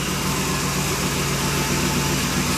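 A vehicle engine runs steadily at close range for the whole stretch, a dense continuous rumble with a slight uneven wobble and no talk over it.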